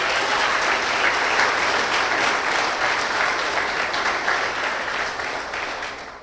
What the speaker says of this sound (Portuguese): aplauda em nome de Jesus.